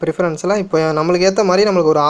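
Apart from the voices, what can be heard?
None of the usual background noises is heard.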